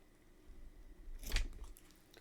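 Scissors snip crochet yarn right after a knot is tied, a single quiet, crisp cut alone against faint background hiss.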